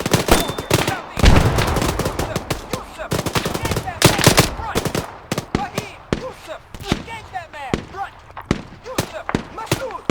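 Rapid bursts of gunfire from the video game Arma 3 crackle and echo in dense, overlapping volleys, with occasional heavier blasts among the shots, loud throughout and with no break.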